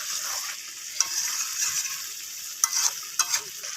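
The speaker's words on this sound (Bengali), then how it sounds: "তো চিকেনটাকে আরও একটু কষিয়ে নেব" Chicken for a Bengali red curry is stir-fried in oil in a pan, with a steady high hiss of sizzling and a few sharp scrapes and knocks as it is turned, with no one speaking.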